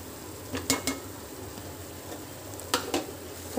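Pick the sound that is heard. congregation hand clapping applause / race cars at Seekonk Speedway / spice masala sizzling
spice masala sizzling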